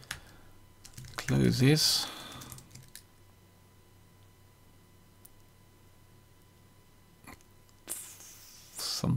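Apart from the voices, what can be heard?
typing on a computer keyboard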